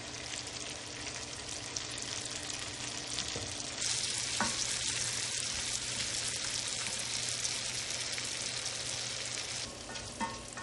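Sliced almonds toast in a hot pan, giving a steady bright sizzle and crackle with occasional scrapes and clicks of stirring, close and continuous, with no talk.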